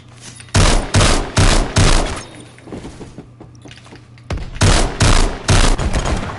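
Loud bursts of automatic gunfire from a gun in the video game Phantom Forces, about five sustained volleys in two clusters separated by a quieter gap of lighter, scattered shots.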